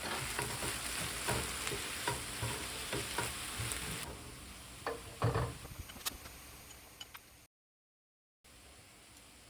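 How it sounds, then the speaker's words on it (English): Ground turkey fries in a pan with a loud, dense sizzle while a spoon breaks it apart, scraping and clacking in irregular strokes. The sizzle quietens partway through and cuts out briefly before returning. "Separate the ground turkey with a spoon and let it sit for a minute or so, just to give it some direct contact with the pan"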